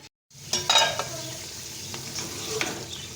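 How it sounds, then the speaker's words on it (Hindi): Meat and turnips frying in a pan, a continuous close sizzle with intermittent clattering scrapes as the pieces are stirred and turned, no voices. "सलजम डाल कर भी इसकी भुनाई होगी।"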